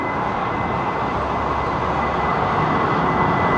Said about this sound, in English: So this is the A350. British Airways jet.